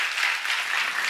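A church congregation claps together in a dense, steady burst of applause that fills the room for about a second.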